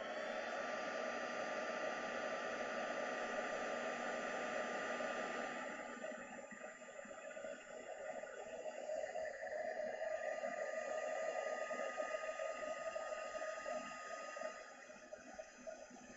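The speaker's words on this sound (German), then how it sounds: "Und jetzt wird der Föhn benutzt, der Embossing-Föhn." An embossing heat gun melting gold embossing powder blows a steady, faint whooshing hiss with a constant whine, running without a break and with a slight change partway through.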